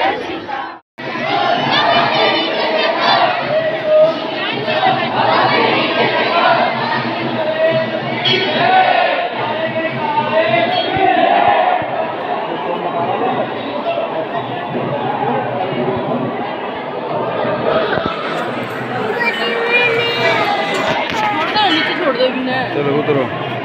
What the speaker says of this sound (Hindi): आज द्वादशी का दिन है तो आज बहुत ज़्यादा भीड़ है